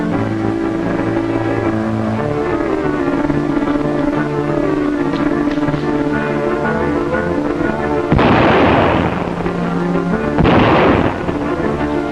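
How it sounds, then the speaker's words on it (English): Two loud, sharp gunshot blasts ring out a couple of seconds apart, the second one fading quickly, over continuous dramatic orchestral music. "Stop your shooting!"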